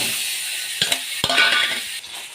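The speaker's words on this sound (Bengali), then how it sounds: "সর্ষে ফোড়ন দিয়েছি, সর্ষের তেল দিয়েছি।" Mustard seeds sizzle in hot mustard oil, a bright, steady crackling hiss up close, with a few soft knocks of a utensil against the pan and no speech.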